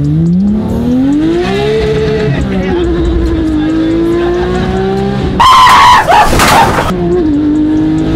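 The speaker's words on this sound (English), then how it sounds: "Mike, you want a little fishtail action?" A Porsche 992 GT3 with straight-piped exhaust revs loudly through a fishtail, its engine note climbing and holding, then a sharp burst of tire squeal and skidding before the engine settles again; voices are faintly present.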